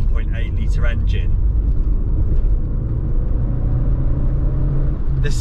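An Audi TT with a 1.8 litre engine drives along, its steady low rumble and road noise continuous throughout, with a person talking over the engine at the start.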